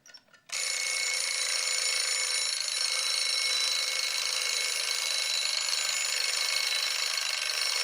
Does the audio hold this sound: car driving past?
no